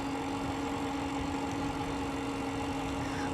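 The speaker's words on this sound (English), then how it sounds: "Motor's pretty quiet too." Segway Myon eBike electric motor running under throttle, a steady, fairly quiet hum with a faint whine that holds even throughout, with no talking.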